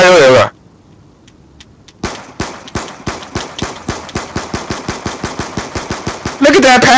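Automatic gunfire in the video game Black Ops 2: after a quiet gap a long rapid burst of about two dozen evenly spaced shots rattles loudly, bracketed by louder game sounds at the start and end.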